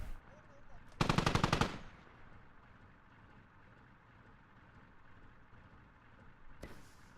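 Heavy automatic fire from an MT-LB armored vehicle in the Squad video game, a loud rapid burst lasting under a second, then a brief second burst near the end over low rumbling ambience.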